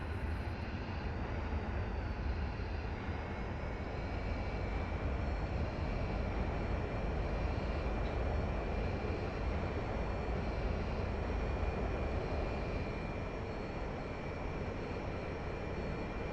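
Steady jet engine roar of a MiG-29 in the DCS flight simulator, a dense, constant broadband rumble with a faint high whine running over it, holding at an even, loud level throughout with no talking.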